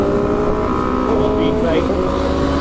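A big motorcycle, a CFMoto, passes during a night ride, its loud continuous engine drone close to the rider's own engine and wind noise.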